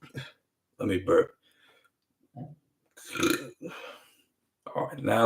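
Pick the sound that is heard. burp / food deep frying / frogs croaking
burp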